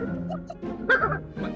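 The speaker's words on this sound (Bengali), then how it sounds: "এখন একটা হঠাৎ করে একটা কুকুর কাছে এসে" A dog close by on a village road gives short yips and barks, a brief loud burst in the middle of a quick sequence of whimpering calls.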